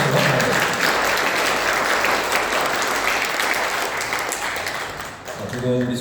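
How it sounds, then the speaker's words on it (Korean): A church congregation at Sunday worship applauds to welcome members, sustained loud clapping that fades near the end as a voice begins speaking. "큰 박수로 환영합니다."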